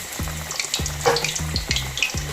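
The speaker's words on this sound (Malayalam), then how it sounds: "എന്നിട്ട് നമുക്ക് ഇങ്ങനെ ചിക്കൻ ഇടും" Chicken pieces frying in a pan with garlic give a steady close sizzle, broken by a few soft, regular knocks of a utensil against the pan.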